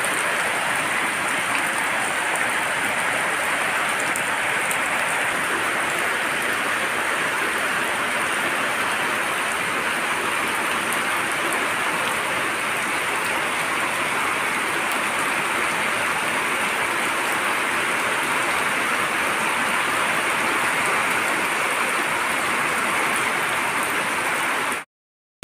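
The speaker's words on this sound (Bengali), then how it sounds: "কি অঝরে বৃষ্টি পড়ছে" Heavy rain pours down without letup on an August afternoon, a dense, even hiss of countless drops hitting surfaces nearby, loud and unbroken for nearly the whole stretch before stopping abruptly.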